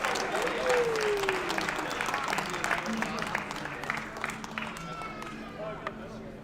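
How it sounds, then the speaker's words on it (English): Applause at the Classic Tetris World Championship Southern Qualifier at ATG Expo 2022, a sustained crowd clapping that fills the room and gradually thins out. "Give him another round of applause."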